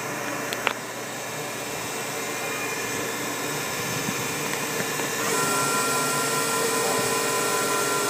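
Spindle of a Pratt & Whitney Tape Drill Mate drilling and tapping center running at speed, a steady broadband machine whine and hum that steps up in pitch and level partway through, with no talk.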